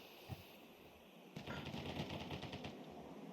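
Rapid bursts of gunfire in Counter-Strike 2 on the Dust II map, a fast rattling volley of several shots after a quiet start, fairly close and loud, with no talk over it.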